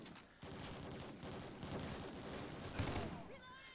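Gunfire in an online shooter video game, with sniping and knife play, comes as a dense, fairly quiet stream of rapid shots and booms continuing throughout, with a brief louder burst near the end.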